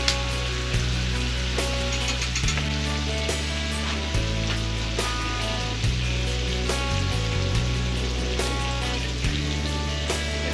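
Biscuits sizzle on a hot Scottle portable griddle, giving a loud continuous crackling fry with a low background hum and no talking.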